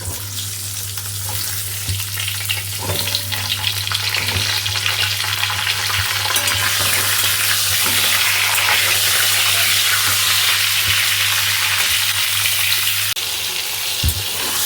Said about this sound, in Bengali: এই পটলগুলোকে ভেজে নেব।